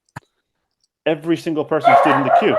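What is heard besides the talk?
dog barking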